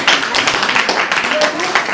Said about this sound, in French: vraiment nous applaudir encore de nouveau